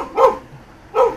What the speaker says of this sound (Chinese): 受到惊吓的狗儿不停吠叫